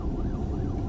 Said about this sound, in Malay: Tu ada ambulans pergi sana.